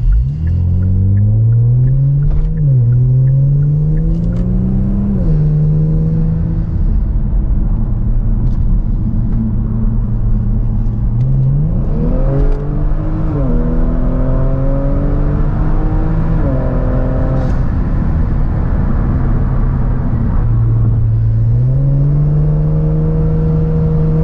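A Kia Stinger GT engine, tuned with a JB4 on map 3, revs hard at wide open throttle, its pitch climbing and dropping through several strong pulls, loud and close throughout, recorded at the rear bumper.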